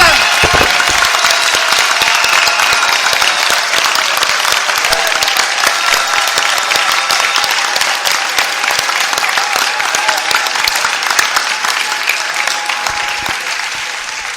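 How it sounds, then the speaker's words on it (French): A church congregation claps for the Savior during a worship service, producing dense, sustained applause that fills the room and fades slightly toward the end. "Clap, clap, clap."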